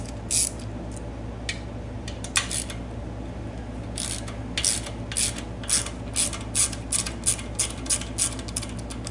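A ratchet clicks in short, quick bursts while loosening the rocker shaft bolts on a Harley-Davidson M8 engine, sharp close-up ticks repeating in a steady rhythm over a low background hum.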